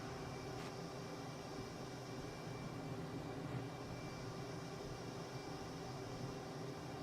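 A plane's engine in a flight simulator game near the Golden Gate Bridge, a steady droning roar that runs unbroken and fairly loud throughout with no talk.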